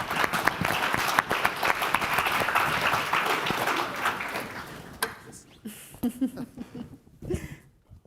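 An audience at a sustainability summit applauds panelists, dense clapping for about five seconds that then thins to scattered claps as a voice begins speaking.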